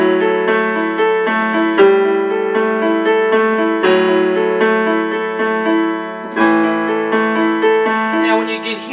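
Piano playing chords with an added A in the bass, sustained harmonies shifting every couple of seconds, close and steady, played alone without talk.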